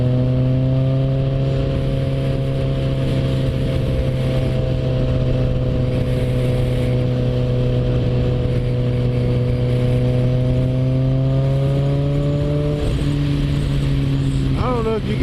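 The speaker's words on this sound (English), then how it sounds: "you can just tell that this bike is not wide open throttle by the sound of that" A 2016 Kawasaki ZX14 motorcycle cruising on a highway in sixth gear, its engine holding a steady, loud drone at part throttle with wind noise, pitch dipping briefly near the end.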